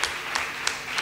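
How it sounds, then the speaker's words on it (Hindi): A church congregation claps loudly for God's glory in a brief burst, with a few sharper clap peaks standing out from the steady patter. "जोरदार तालियां खुदा के जलाल के लिए"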